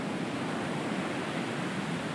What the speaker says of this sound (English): But those waves are rolling